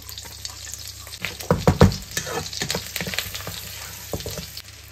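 Ginger and garlic fry in melted butter in a pan, giving a steady sizzle with crackling bursts and the scrape of stirring. No one speaks.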